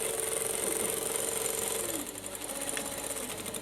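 A sewing machine runs steadily while stitching a trouser seam, a fast continuous whirring rattle at close range that eases slightly partway through and then carries on.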